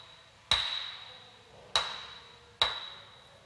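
Three sharp hammer blows ring out on a workpiece clamped in a machine vise, each a bright metallic strike with a ringing tail, spaced roughly a second apart, close and alone.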